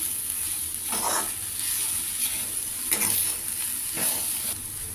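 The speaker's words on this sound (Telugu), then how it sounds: "బాగా ఫ్రై చేసుకోవాలి ఇలాగా మిక్స్ చేసుకుని సింపుల్గా ఈజీగా చేసేసుకోవచ్చు ఈ కూరని" Ponnaganti greens fry in a hot pan while being stirred. A constant sizzle runs throughout, and louder scraping stir strokes cut in roughly every second.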